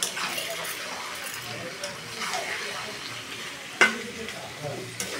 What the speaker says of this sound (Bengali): তোমার খুব ভালো করে আমাকে এটা মানে সাঁতলাতে হবে, খুব ভালো করে কষাতে হবে।